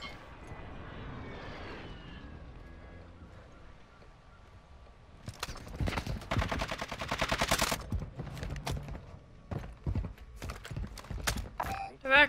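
Sniper and gunfire in Call of Duty Warzone 2.0, a quiet stretch with faint tones giving way to a loud, dense burst of shots and impacts from about six seconds on, continuing in sharp bursts to the end.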